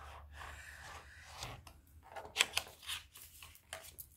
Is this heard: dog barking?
no